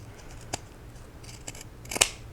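Fabric scissors snip through material for a bucket hat in a few separate, crisp cuts, with a louder double snap near the end and quiet pauses between.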